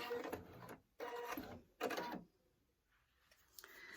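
A sewing machine runs in two or three short bursts while stitching a locking stitch on fabric for a mobile phone pocket, each burst a brisk mechanical whir separated by pauses and a quiet click at the end.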